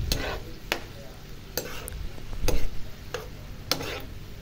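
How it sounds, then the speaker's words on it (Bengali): Spice paste stir-fried with a little water for a Bangladeshi-style poa fish jhal, a steady low sizzle broken by several sharp scrapes and taps of a spatula against the pan, close and fairly quiet. "এখন মশলাটা ভালো করে কষিয়ে নেব"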